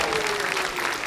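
Audience applause right after a juggling show, a dense steady wash of clapping filling the whole moment with a faint voice or whistle-like tone running underneath.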